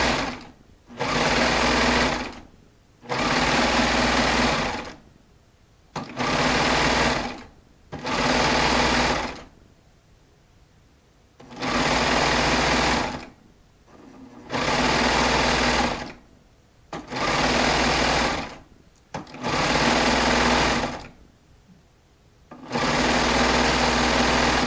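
A Baby Lock Triumph serger sewing Shannon Cuddle fabric with a four-thread stitch, running in repeated loud, close bursts of fast whirring, each lasting a second or two and broken by short pauses.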